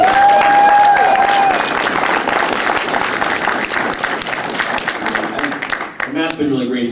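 Convention panel audience bursts into loud, sustained applause and some cheering in a crowded room, with a whistle near the start and a voice speaking over it as the clapping tapers.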